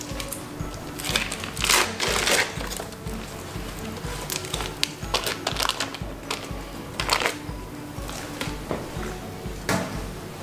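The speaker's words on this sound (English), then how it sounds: "So just unwrap our cream cheese." Cream cheese packaging being unwrapped in a home kitchen, giving a steady run of close crinkling, rustling foil-paper handling noises with short louder bursts throughout, no voices.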